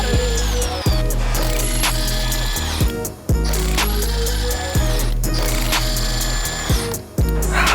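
An impact gun or power tool works loose car wheel lug nuts through a handmade socket welded on, loud repeated bursts of rattling hammering broken by short pauses, close up.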